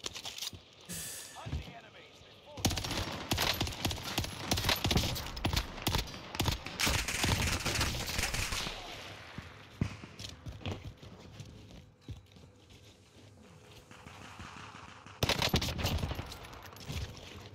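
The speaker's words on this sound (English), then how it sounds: "Buddy really tried shooting me." Rapid gunfire in a Warzone solos match, dense bursts of automatic shots and crackling fire, loud and close, coming in waves with brief quieter gaps between.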